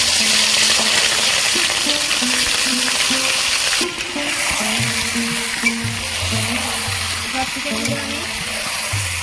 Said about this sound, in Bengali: তেলের মধ্যে আমি চিকেনগুলো ভেজে নেব